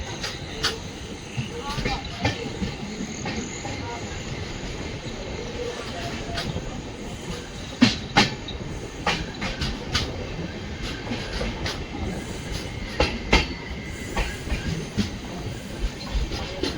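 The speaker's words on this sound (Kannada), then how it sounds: "ಟ್ರೈನ್ ಡಿಪಾರ್ಟ್ ಆಯಿತು" Panchaganga Express pulling out of Kundapura, heard as a continuous, loud rail rumble with rhythmic clickety-clack wheel beats and sharp clanks scattered throughout.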